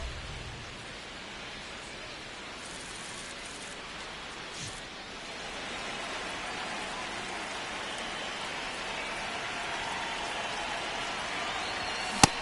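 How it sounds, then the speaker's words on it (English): Rain pours over a ballpark in the MLB The Show 26 video game, a steady, even hiss of falling water that continues throughout with no voices. "This rain is not letting up."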